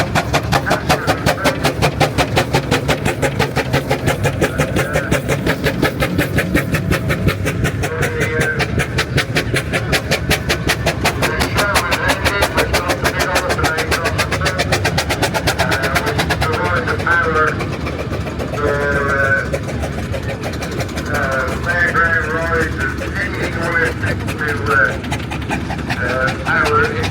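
Vintage steam and stationary engines run together in a rally arena, giving off a steady, rapid mechanical chugging throughout while someone talks over it.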